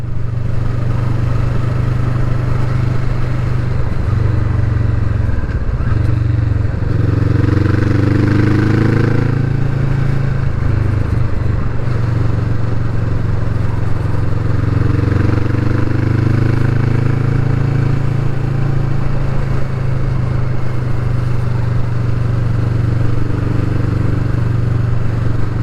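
A 2020 Kawasaki Vulcan S Performance motorcycle riding on a road near Codnor toward a dual carriageway, its engine droning loudly and steadily throughout with low rumble and slight rises in pitch, no talk over it.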